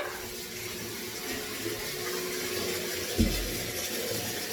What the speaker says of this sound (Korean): 물 좀 받아놓게요.